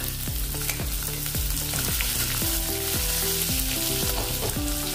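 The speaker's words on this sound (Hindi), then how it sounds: "प्याज को भी हम थोड़ा सा भूनेंगे अभी" Onions fry in hot oil with dried red chillies and a bay leaf, a steady close sizzle running throughout with a melodic tune playing underneath.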